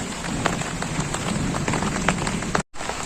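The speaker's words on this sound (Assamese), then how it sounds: "আৰু এইফালে বৰষুণ পৰি আছে, বৰষুণ ৰাতিপুৱাৰ পৰা পৰি আছে।" Steady rain falls continuously close by, a dense even patter on surfaces with no voices, broken only by a brief dropout near the end.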